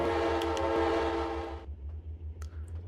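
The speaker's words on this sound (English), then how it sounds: "Here comes the train." A train rolls past in the Trainz Railroad Simulator 2019 game, its loud sustained horn blaring over a low rumble for about a second and a half, then cutting off to leave quieter rail noise.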